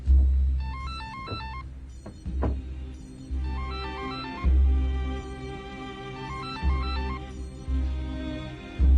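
A telephone rings unanswered in a drama scene, a repeating electronic warbling ring in bursts with short pauses, over a low humming background with soft thuds.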